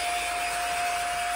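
A Dspiae compact vacuum for model makers runs steadily, a constant loud whine with a sharp tonal hum and airy rush that holds without change.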